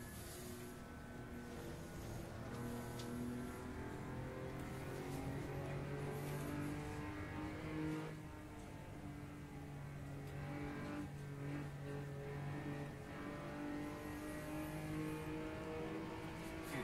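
A Porsche race car lapping the Dijon-Prenois circuit: a steady, continuous engine drone that rises and falls in pitch through gear changes and revving, heard from inside or close by, with no talk.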